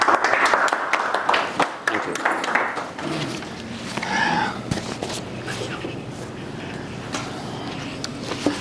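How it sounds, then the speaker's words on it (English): An audience claps for a rabbi at a community evening event. The applause is loud at first, then thins into scattered claps while voices and other noises come through underneath. "Let's give a nice loud round of applause to our Rabbi Yosef Chaim Schwab."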